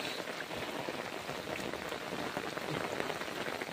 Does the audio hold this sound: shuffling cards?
no